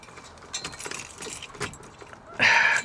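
A bunch of car keys jangles in short bursts as different keys are tried, ending in a louder, brighter rattle close by, at a salvage auction lot beside a carbureted car.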